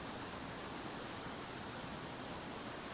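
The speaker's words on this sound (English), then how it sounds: "This is one of the rapids just before Granite Creek." River rapids on the Upper Chetco River, just upstream of where Granite Creek joins, roar as a dense, steady rush of whitewater, loud and close, with no break across the few seconds.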